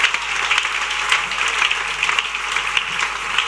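A church congregation applauding loudly, with dense, sustained clapping that fills the room evenly from start to finish.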